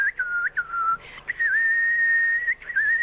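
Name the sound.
person imitating a nightingale by whistling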